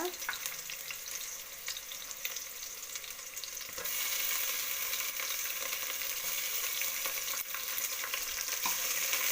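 Tomato frying in a pan for a leafy-greens dal sambar, a steady bright sizzle with scraping stirs, growing louder and denser partway through, no voices.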